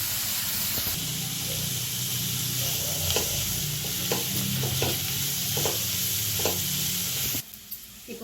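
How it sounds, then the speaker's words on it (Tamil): Onions sauté in a pan with a pinch of rock salt for a mutton liver dish, a loud steady sizzle broken by repeated stirring scrapes, then the hiss drops away abruptly near the end. "வெங்காயம் வதக்கும் போதே கொஞ்சமாக கல் உப்பு போட்டுக்கோங்க அப்போ தான் சீக்கிரம் வெங்காயம் வதங்கும்"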